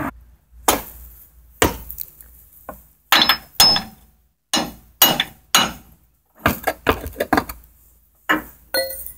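A hammer strikes a Nissan D22 pitman arm to drive it off its ball joint, with about twenty sharp metallic blows, some single and some in quick clusters, each loud and close, separated by brief silences.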